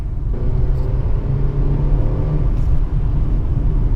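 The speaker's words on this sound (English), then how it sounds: "definitely a difference in the throttle response, and it shifts a lot quicker than it does in comfort mode" A Mercedes-AMG four-cylinder car of about 241 horsepower accelerates with a loud, steady low rumble and whirring drone that swells slightly, a brief dip near the end hinting at a quick gear change.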